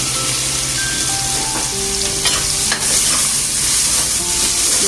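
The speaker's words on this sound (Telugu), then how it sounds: "మిక్స్ చేసుకొని కొంచెం కలర్ వచ్చేవరకు ఫ్రై చేసుకోవాలి" Two large chopped onions frying in hot oil with cumin and a bay leaf for egg curry, a continuous crackling sizzle with a spoon scraping and stirring nearby, no speech.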